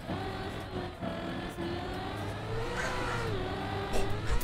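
Car engine in Trackmania on a dirt track, a steady mid-pitched drone that climbs and dips through a quick gear change, holding loud and close throughout.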